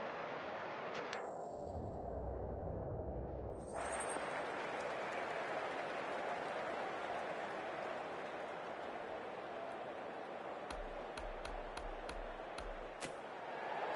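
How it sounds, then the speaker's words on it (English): A large crowd at a cricket stadium roars steadily and loudly for the whole stretch as players walk out for an India versus New Zealand T20 match, with a few sharp pops and claps cutting through. "it's a loud crowd as the players make their way out"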